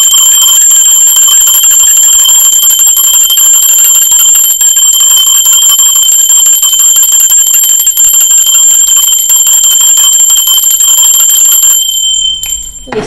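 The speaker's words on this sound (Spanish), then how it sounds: "Va campana" A bell rings loudly and sustains a bright, shimmering tone for about twelve seconds before it cuts off abruptly, with no talking.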